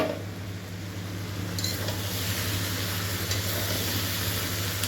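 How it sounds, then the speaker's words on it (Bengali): Potatoes and onions fry in oil for a soybean curry, a steady close sizzle with soft stirring scrapes running throughout, over a faint low background hum and no voices. "তো সয়াবিনের জন্য আলু পেঁয়াজটা ভাজতে দিলাম।"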